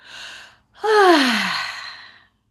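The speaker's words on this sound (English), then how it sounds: "let your voice awaken every cell of your body with a yawn or two or more" One voiced yawn up close: a short breath in, then a long, drawn-out exhale sliding downward in pitch.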